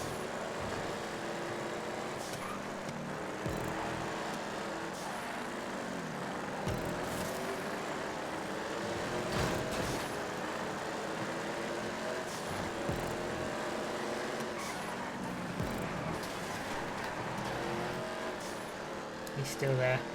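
Race cars on a GTA 5 track, their engines droning and shifting pitch in a steady layered whine with occasional passing surges, heard fairly faintly beneath a talking voice.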